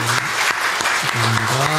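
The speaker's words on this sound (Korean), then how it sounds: "우리 한번 뜨겁게 박수로 한번 축하하십시다." Church congregation applauding during a Sunday morning worship service, a dense steady clapping that fills the room throughout, with voices speaking and calling out over it.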